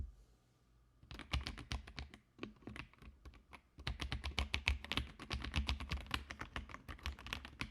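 Loud, crisp clicky typing on an AK820 mechanical keyboard with blue switches, a dense rapid stream of sharp keystrokes after a brief quiet start, with one short pause midway.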